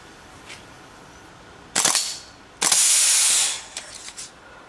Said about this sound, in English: full auto with a heavy weapon